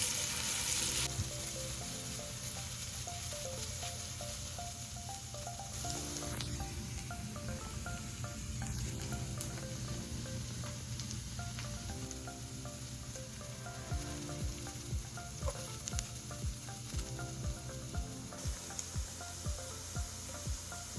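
Finely chopped onion fries in oil in a pan, a steady, loud, close sizzle running throughout with light stirring scrapes and faint background music.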